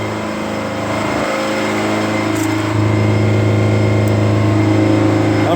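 A pump runs on a large Mitsui Seiki machine, a loud, continuous motor hum and whine that steps up in level partway through and holds steady.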